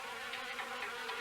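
Continuous insect buzzing from wasps around an old car in the horror game Harvester, a steady whining drone at even loudness with no voices.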